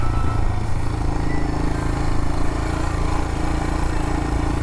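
Royal Enfield Himalayan motorcycle riding a dirt trail of mud, rocks and sand through trees, its steady mid-pitched engine drone close and continuous, with wind rush and no talk.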